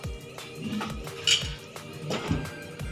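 A metal lid set down on a cooking pot of cluster beans over a medium flame, giving a few light clinks and clatters of metal against metal at close range, with a faint kitchen background.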